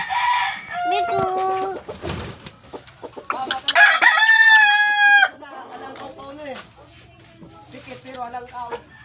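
Chickens cluck nearby and a rooster crows loudly once, with people talking in the background.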